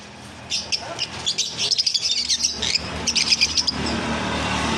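Caged cockatiels, java sparrows and lovebirds kept at home chirp in rapid, overlapping bursts of bright tweets, close and fairly loud over a low background hum.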